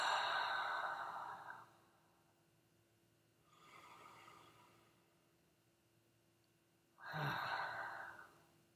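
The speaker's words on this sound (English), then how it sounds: "let's take some deep breaths in and out." Slow, deep breathing during a calm relaxation exercise: a long audible exhale, a softer breath in, then another strong exhale, all close and unhurried with no talking.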